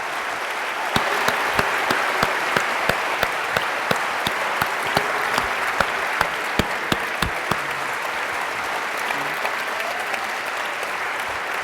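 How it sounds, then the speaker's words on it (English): Sustained applause from a debate audience at the close of an evening debate on trusting the New Testament text, a steady dense roar of clapping lasting throughout with sharp individual claps standing out. "Let's give both of them one more round of applause."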